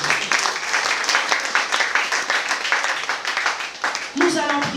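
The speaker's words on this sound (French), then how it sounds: "Acclamons pour le roi." A church congregation applauds in worship for the king, dense sustained clapping from many hands with a voice speaking over it near the end.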